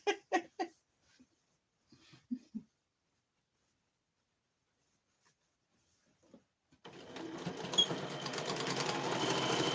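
A sewing machine stitches fabric bowl cozies, starting up after a few soft knocks and near silence and running steadily, moderately loud, through the final few seconds.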